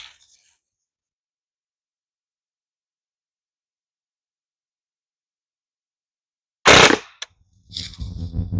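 An Umarex HK416 .177 BB air rifle fires after a long near-silent pause: one sharp, loud crack, then a quieter burst of rattling and clattering right afterward.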